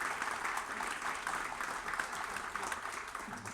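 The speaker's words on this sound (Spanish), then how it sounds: "Le damos un aplauso a la Federación de Estudiantes de la Universidad de Chile" An audience at a commemoration event in Chile claps for a student federation, steady crowd applause heard at a distance and fairly faint, an even texture of many hands without a clear individual rhythm.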